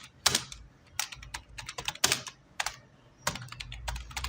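A computer keyboard is typed on nearby in quick bursts of crisp clicking keystrokes, separated by short pauses, with no other sound.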